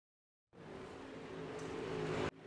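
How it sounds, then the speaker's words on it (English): A steady roar of World of Outlaws late model race cars on the Port Royal dirt track swells in after a moment of silence, growing louder, then briefly cuts out and returns. "I hear the cars out on the track"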